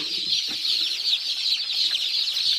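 Newly hatched chicks from a 777 Xazina incubator cheeping continuously in high, overlapping peeps, close and steady, with faint clucking underneath and no speech.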